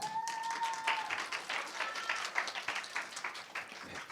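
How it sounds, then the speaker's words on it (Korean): An audience at a youth study camp concert claps to welcome a speaker onto the stage, a steady broadband patter of applause with a brief tonal sound at the start. "최혜성 리더님을 큰 박수로 맞이해 주세요"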